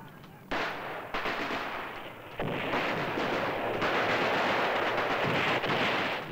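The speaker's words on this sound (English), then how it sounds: "The guns he had so often imitated became a terrifying reality." World War I artillery and guns fire in rapid, heavy booms that overlap into a continuous loud barrage with sharp onsets.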